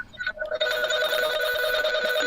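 A telephone rings with a steady sustained electronic tone that starts abruptly and continues loudly to the end, following a brief murmur of background talk.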